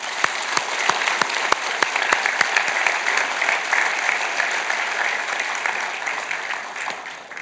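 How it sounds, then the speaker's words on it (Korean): Congregation at a Sunday praise service gives sustained applause, a dense steady wash of clapping with a few sharp claps standing out early, easing slightly toward the end. "마지막 박수를 한번 하시고"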